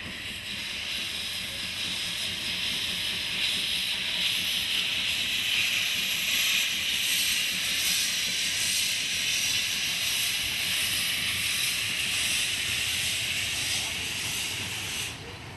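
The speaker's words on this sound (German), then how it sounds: "Bis heute steht die Lok unter Volldampf, unübersehbar und auch unüberhörbar." A steam locomotive of the Preßnitztalbahn under full steam gives off a loud, steady hiss that runs unbroken for about fifteen seconds, with no talk over it.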